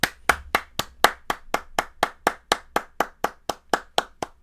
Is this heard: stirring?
no